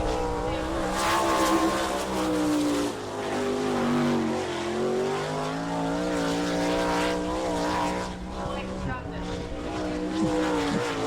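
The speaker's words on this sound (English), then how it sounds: "Kenny Jacobs underway right now in car number 6, and he goes off the back stretch" A sprint car at the Attica, Ohio track in an All Star Circuit of Champions event runs a timed lap, its engine a loud, sustained roar that rises and falls through the corners, with an announcer talking over it.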